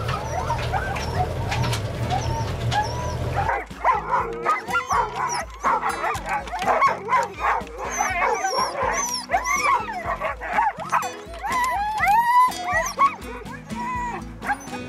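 Several sled dogs bark and whine excitedly close by while being brought in by boat on an Alaskan river in fall, overlapping yips and high whimpers in quick irregular bursts, loud and continuous after a brief engine-like rumble.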